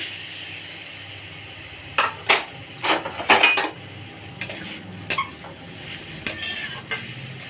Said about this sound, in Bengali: নারকেলটা একটু ভেজে নেব তারপরে গুড় দেবো